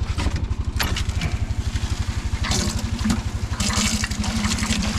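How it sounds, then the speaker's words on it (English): Water pours steadily into a farm sprayer tank, about five gallons, with a continuous rushing hiss over the throbbing rumble of a running engine. "Put about 5 gallons of water in."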